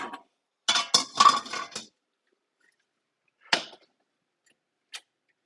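A pan is set up on a stove: a quick clatter of metal knocks and scrapes, then silence, then a single clunk and a faint final tap.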